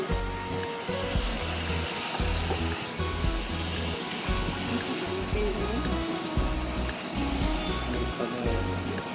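Chicken pieces being stirred in a pan over a low flame while cooking chicken do pyaza, giving a steady, continuous sizzle that runs the whole time beneath rhythmic background music.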